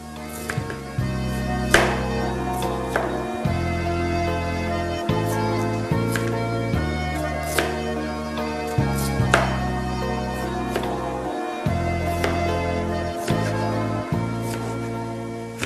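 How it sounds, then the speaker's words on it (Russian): Steady knife taps and chopping on a board as beetroot is sliced, under background music, with sharp cutting strikes scattered throughout. "Таким же способом я нарезаю свеклу"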